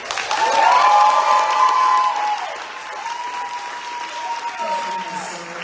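A student crowd at a university event claps and cheers for a team being introduced, loud at first and then settling into softer, steady applause, with voices calling out over it.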